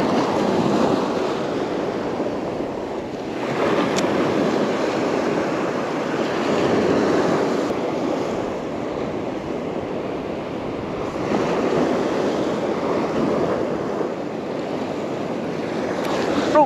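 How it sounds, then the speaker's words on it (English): Steady, strong wind of about 15 mph roaring across an open beach while fishing, mixed with surf washing in, with gusts swelling and easing throughout. "And as I expected, it is windy."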